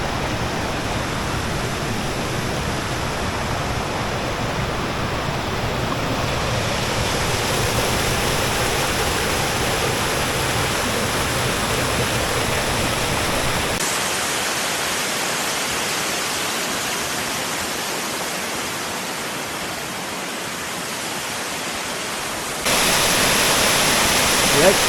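Waterfalls at Cascada Juan Curi near San Gil roar in a loud, steady broadband rush that runs the whole time, with abrupt shifts in level partway through and again near the end.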